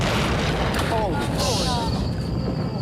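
A loud boom from a TV show excerpt, a dense rumbling blast filling the short span with shouted voices and dialogue layered over it.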